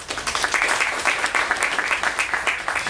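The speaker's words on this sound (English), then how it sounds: "Can we have a big round of applause for Arundhathi Subramanaiam." Steady, enthusiastic applause from an audience welcoming poet Arundhathi Subramanaiam, many hands clapping at once in a continuous, fairly loud wash.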